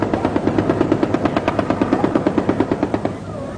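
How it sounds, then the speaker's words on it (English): A long rapid burst of automatic gunfire from guerrillas in a 1983 battle at Corinto and Tejutepeque, drawn out by a helicopter, with evenly spaced loud shots over a steady rotor-like drone. "first drawing guerrilla fire from a helicopter to establish their position"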